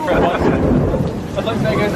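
Thunder with lightning rumbles through steady heavy rain at Disney's Magic Kingdom, a dense continuous roar with voices murmuring faintly underneath.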